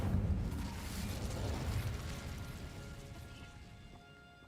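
In Hogwarts Legacy, casting the Incendio fire spell sets off a loud, rumbling fiery burst that crackles and roars at first, then slowly fades away over several seconds.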